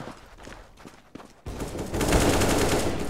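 A gunshot in the CS:GO video game, sharp and close, followed by a louder burst of dense rattling game noise.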